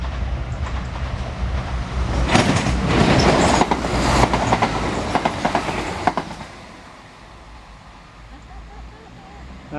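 A CrossCountry passenger train bound for Peterborough, Leicester and Birmingham rumbles past close by in the English Fens, wheels clattering rhythmically over the rails, rising to a loud peak and then fading as it moves away.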